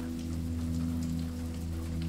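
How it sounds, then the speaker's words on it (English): Steady rain falls on a stormy night at a bell tower, a constant dense patter with an even low hum beneath it, continuous and close, with no voices. "the steady sound of rain"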